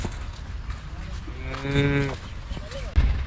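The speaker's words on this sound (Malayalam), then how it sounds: "എല്ലാം കന്നി പശുക്കളാണ്" A cow gives a single low moo at moderate distance over quiet background noise, followed by a soft thump, among young heifers.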